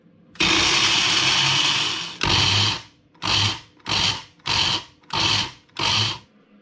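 A food processor blitzing nuts for a Christmas cake whirs loudly in one long burst, then a series of short, evenly spaced pulses, close and harsh.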